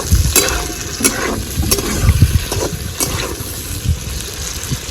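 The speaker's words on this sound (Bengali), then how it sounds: "একসাথে পেঁয়াজ কুচিটাও দিয়ে দেবো আর একটু নেড়ে চেড়ে নেব" Chopped onion and capsicum frying for chilli chicken, stirred in a pan, give off a steady close sizzle with light scraping and stirring noises throughout and no talking.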